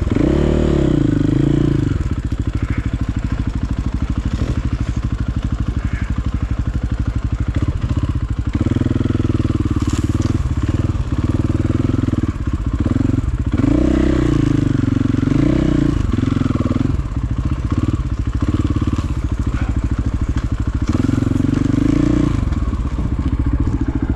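A dirt bike rides a single-track mountain trail on Table Mountain in Washington State, its engine droning and revving up and down while the bike clatters and thumps over rough ground, loud and close throughout with no talk.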